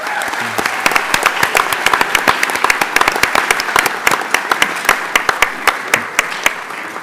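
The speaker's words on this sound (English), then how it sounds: "Can we have another round of applause for them?" Applause for the Lake Belton Middle School Orchestra after a student showcase at a Belton ISD school board meeting: a steady round of many hands clapping, fairly close and loud, with individual sharp claps standing out throughout.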